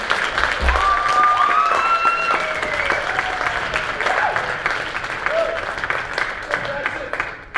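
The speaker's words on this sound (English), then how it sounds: "Another round of applause." An audience at a vocal jazz festival applauds in a steady, full wash of clapping that holds for several seconds and slowly thins toward the end.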